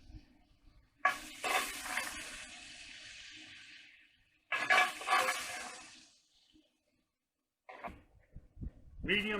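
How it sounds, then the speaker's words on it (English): Beef hits the hot pot of a Dutch oven in bursts of loud sizzling and stirring, two long hissing surges separated by quieter gaps, followed by shorter clattering stirs at the end. "And we want to add this meat straight into the Dutch oven"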